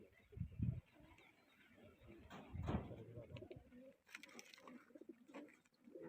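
A pigeon coos nearby in low, soft throaty calls, a few brief phrases set against faint outdoor background noise.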